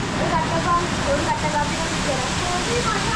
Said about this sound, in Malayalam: നല്ല സൂപ്പറായിട്ടുള്ള മഴയാണ് പെയ്തോണ്ടിരിക്കുന്നത്